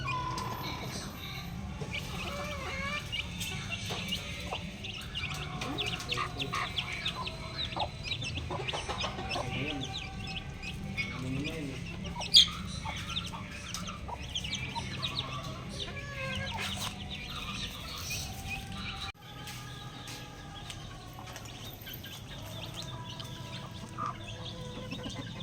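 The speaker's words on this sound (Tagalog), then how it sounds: "Sasama ko yung mga nanay muna. Yung nanay lang muna. Sunod ko yung mga sisiw." Hens and chicks cluck and peep throughout in a backyard chicken area, some close and some farther off. Occasional handling noises and a brief thump come through.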